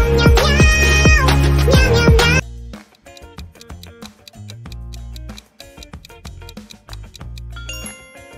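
Bongo Cat meme song: a loud sung melody with cat meows for the first two seconds, then a rhythmic tapping, ticking beat with bright clinking accents running to the end.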